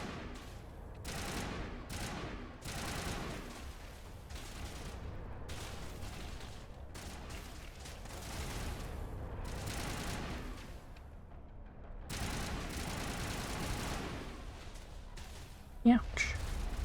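Bursts of weapon fire from Mass Effect rattle in repeated volleys, quiet and gamelike, separated by short pauses and ending in a sharper impact.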